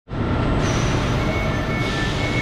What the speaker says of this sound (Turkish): Trenimiz geldi.